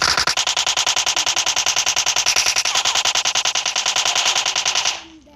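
Rapid automatic gunfire in a multiplayer shooter video game, a loud, close, evenly spaced burst of about forty shots lasting several seconds before cutting off abruptly.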